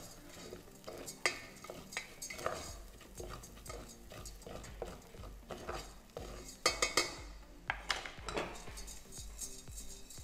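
A utensil scrapes and clinks around a pot in irregular strokes as rice toasts for risotto, with a soft frying sizzle underneath; no voices.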